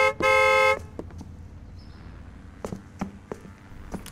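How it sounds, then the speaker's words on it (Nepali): A car horn gives one long, loud, steady blast close by, then stops, followed by a few scattered clicks and footstep-like taps in a quiet street scene. "हर्न बजाउ न हर्न बजाउ"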